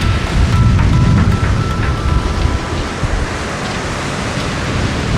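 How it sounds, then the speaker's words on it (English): Heavy surf pounding the coast in high wind, a dense, loud roar of breaking waves and buffeting gusts with no voices. "The sea is roaring."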